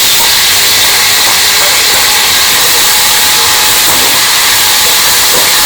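Onions frying in half a cup of oil give a steady, loud broadband sizzle and hiss that holds evenly throughout with no pauses.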